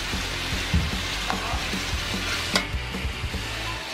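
Corn vermicelli noodles stir-fried with vegetables and soy sauce in a pan, giving a loud, steady sizzle with repeated scraping and tossing knocks from a spatula close by.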